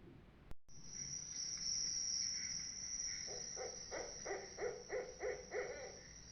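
An owl gives a run of soft, evenly spaced hoots, repeated about six times at a steady rhythm, over a continuous high cricket drone in a quiet night setting.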